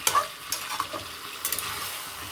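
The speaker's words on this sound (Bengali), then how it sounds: "দিয়ে নেড়ে চেড়ে সুন্দর ভালো করে কষাতে হবে।" Chopped tomato stirred and fried in a pan for butter chicken, a continuous close sizzle broken by several scraping strokes of a spoon, with no voices.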